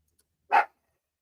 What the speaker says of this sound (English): Of course, you're barking for Scorpio, Freddie.